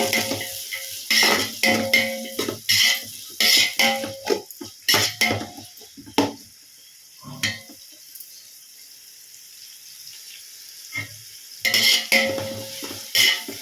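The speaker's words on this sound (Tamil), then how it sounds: "வெங்காயம் நல்லா வணங்க ஆரம்பிச்சிருச்சு." Onions fry in a pan for chicken biryani, with bursts of spatula stirring and clattering against the pan, a quieter sizzling stretch in the middle, then more stirring.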